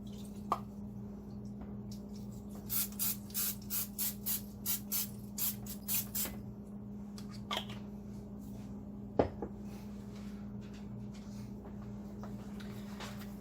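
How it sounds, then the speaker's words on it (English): A quick series of short, hissing spray bursts of cooking spray into a 9x13 pan comes in a steady rhythm, close by, over a low hum, with a couple of light clicks. "lightly spray it"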